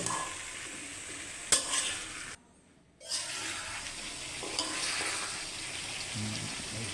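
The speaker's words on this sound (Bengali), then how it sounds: "দেখা যাচ্ছে খুব সুন্দরভাবে আমি কষাচ্ছি" Vegetables and lentils (dal) sautéed and stirred in a pan with spices, a steady close sizzle with scraping strokes, broken by a brief near-silent gap around the middle before the frying resumes.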